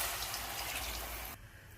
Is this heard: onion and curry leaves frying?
no